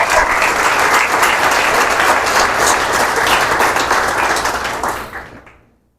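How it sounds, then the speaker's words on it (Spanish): A church congregation bursts into loud, sustained applause during a Spanish-language sermon, dense clapping that holds steady and then fades out quickly near the end. "Un aplauso al Señor"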